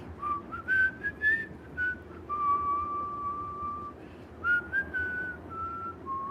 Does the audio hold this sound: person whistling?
yes